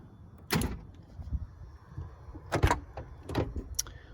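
A Chrysler New Yorker car door is unlatched and opened: a sharp mechanical clunk, a softer thud, then two more close latch clicks and knocks, fairly quiet in a still setting with no talk.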